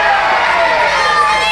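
A wrestling crowd cheers steadily at a tag team match, a loud, continuous roar with a commentator talking over it.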